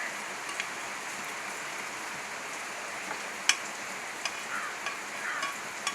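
Paneer cubes shallow frying in a pan make a soft, steady sizzle with faint crackles and a few small pops, fairly quiet and close, with no talking.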